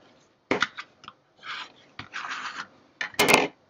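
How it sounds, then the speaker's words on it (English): Card edges are burnished with several short, close scraping rubs separated by brief pauses, ending with a sharper, brighter stroke. "Burnish those edges."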